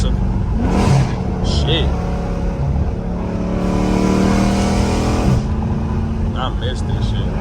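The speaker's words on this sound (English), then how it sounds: "Let me let y'all hear them downshifts" A rebuilt 2024 AWD Dodge Charger's engine revs loudly through downshifts, pitch climbing and dropping in surges from inside the car, with a man's brief exclamation over it.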